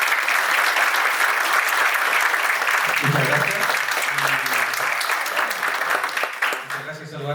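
Steady applause from an event audience at a book presentation in Pichilemu, Chile, honoring a guest, sustained and dense throughout, with someone speaking briefly over it near the end as it fades.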